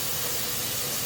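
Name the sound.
steam hissing from a steam canner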